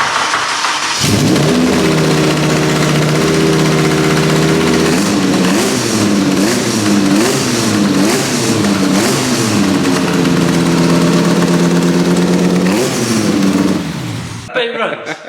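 A BMW M3 fitted with a V10 engine and 10-into-1 headers starts up for the first time, a loud, close, raspy roar followed by several wavering revs and a steady idle, with voices now and then, cutting off abruptly near the end.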